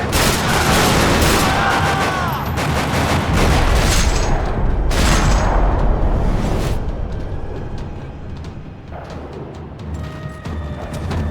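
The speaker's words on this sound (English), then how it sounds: "Another parking lot rattling with gunfire." Dense, continuous gunfire in a parking lot in the video game Max Payne 3 rattles throughout, with heavy booms and bursts layered over each other, loud and chaotic, fading somewhat toward the end.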